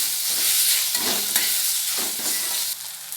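Onion and chopped tomato sautéing in an oil-filled pan: a loud, close, continuous sizzle broken by a few stirring scrapes, with the hiss dropping slightly near the end and no talking.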